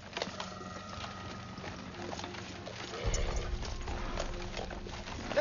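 Horses' hooves clip-clop in a slow, faint patter outside a citadel at war, with distant birds and a low rumble of background activity.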